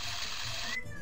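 A cat meows in the Tom and Jerry House Trap game for PS1, a short cartoonish cry over a constant background hiss.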